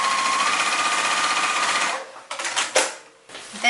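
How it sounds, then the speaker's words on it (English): Close, loud hum and rapid ticking of a sewing machine stitching a tote bag near its zipper, running continuously, then slowing into short stop-start bursts. "try and sew as close as you can to the zipper"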